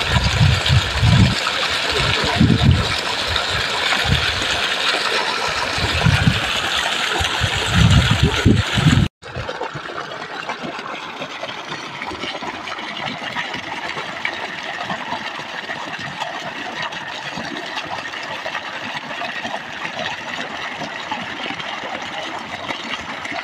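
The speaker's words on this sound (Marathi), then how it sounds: "नुसतं पाणी आलं आणि पाणी वाढायला लागलं" A borewell pump engine runs loud and steady in a village near Majalgaon, Beed, then cuts abruptly to a quieter, even hiss of flow that continues to the end.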